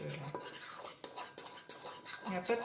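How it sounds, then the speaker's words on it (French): A spoon stirs dry gluten-free chocolate cake powders in a bowl, with repeated scraping strokes and light clinks against the sides, close and fairly quiet. "je mélange à la cuillère parce que c'est que des poudres pour l'instant"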